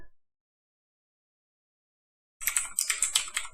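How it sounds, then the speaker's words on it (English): Close, quick computer keyboard typing, a short burst of rapid key clicks that starts after a stretch of near silence and sounds slightly odd because of a broken microphone power supply. "If my keyboard sounds weird"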